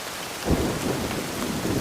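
Heavy rain pours down in a dense, steady hiss, with low rumbles of thunder rolling beneath it during a storm on a muddy road. No voices are heard.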